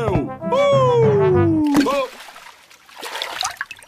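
In a Peppa Pig cartoon, a character jumps into a muddy puddle after rain flooding, and a short wet splash and dribble follow a falling, drawn-out cartoon voice, with some talk around it.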